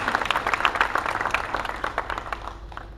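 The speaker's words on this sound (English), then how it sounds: "let's give you guys a round of applause because you are our unsung heroes" A round of clapping at a graduation ceremony for special education staff, a moderate crowd applauding with uneven bursts that gradually thin and fade toward the end.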